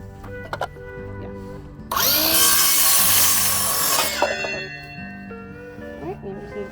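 A cordless power drill drives into wood during a chicken coop rebuild, one loud sustained burst of about two seconds, bracketed by quieter workshop noise and faint background tones.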